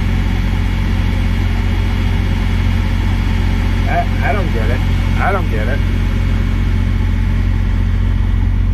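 A parked truck's diesel idles close by with a steady low, clacking rumble, while someone speaks briefly over it midway.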